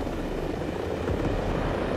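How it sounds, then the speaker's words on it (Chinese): Helicopters approach in the tactical shooter Ghost Recon Breakpoint, a steady droning rotor and engine roar that fills the whole stretch at an even, fairly loud level, with no talking. "后面两排直升机来了。"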